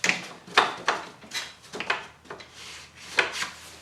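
A wooden finger joint plate slides along wood in short, repeated scraping strokes, close and fairly quiet, with gentle rubbing between the bursts.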